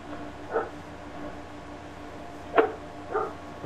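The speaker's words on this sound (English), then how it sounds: "That's Repo who's barking." A dog named Repo gives three sharp, separate barks a little way off, with the middle one loudest, over a quiet background with no talking.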